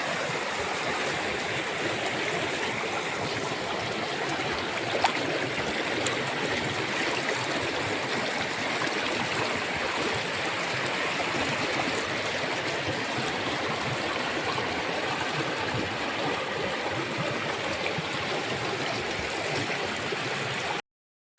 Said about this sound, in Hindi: ये देखिए क्या साउंड है नदी का।